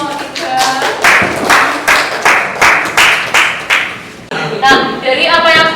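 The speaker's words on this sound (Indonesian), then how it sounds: "Yang berikan aplaus untuk kelompok 3." Audience applause for a student group in a university classroom, a burst of rhythmic, near, loud clapping that pulses evenly, briefly dips, then resumes with voices calling out over it.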